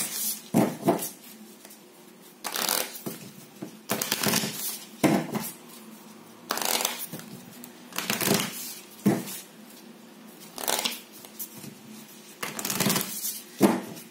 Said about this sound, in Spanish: Comenzamos a barajar nuestras cartas.